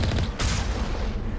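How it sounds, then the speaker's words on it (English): Airstrike in Mass Effect Legendary Edition, a dense barrage of loud booming explosions and rattling blasts rolling on without pause. "Airstrike."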